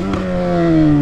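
Yamaha XJ6 motorcycle engine held at a steady high rev during wheelie practice, a loud, close, droning tone climbing slightly in pitch over about a second, with no talking.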